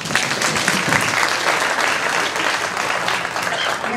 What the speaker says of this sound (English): So for that, we applaud you.